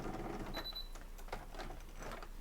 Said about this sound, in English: I'm going to back stitch